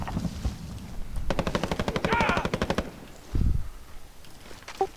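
Call of Duty gunfire: a rapid automatic burst of about a dozen even shots, then a single heavier blast and a few scattered pops, loud and close, with no talk during the shots.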